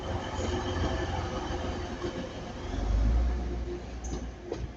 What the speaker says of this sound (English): it was my Transpennine lover leading, 185, 112